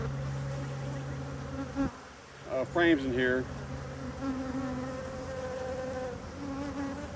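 Honey bees hum steadily around an open hive close by, with a brief pause and a spoken remark in the middle, and the buzzing continues underneath.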